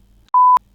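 A ToolkitRC M8S battery charger gives one clean, steady electronic beep, about a quarter second long, loud and close against near silence with no voices.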